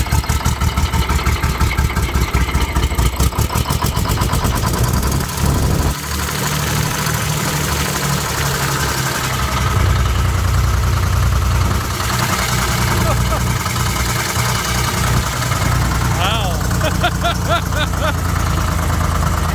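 A 65-year-old Detroit diesel engine in a crawler idles after 24 years of sitting, giving a steady, loud, rough rumble with some early knocking, with people talking over it.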